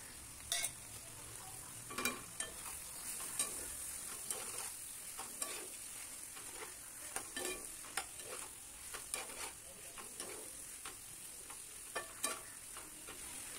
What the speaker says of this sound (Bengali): একটু নাড়াচাড়া করে আমি ওর মধ্যে মশলাগুলোও দিয়ে দিলাম